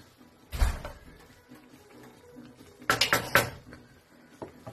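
A lid clatters down onto a pan of shrimp cooking into a thick bhuna, with one sharp knock followed a few seconds later by a quicker cluster of metallic taps and rattles, close by against a quiet kitchen.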